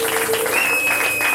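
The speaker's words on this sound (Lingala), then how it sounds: "On peut acclamer pour Jésus." A church congregation applauding for Jesus, steady clapping filling the room for a brief moment, fairly close and continuous with a faint tone running underneath.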